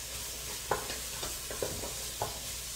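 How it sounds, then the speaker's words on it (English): Parsnips and onions sauté in a pot under a steady, soft sizzle, with a spoon stirring through them in a few light scraping knocks. "right now what we're doing is we're sauteing, caramelizing those first ingredients so that we really bring out those sweet sugars"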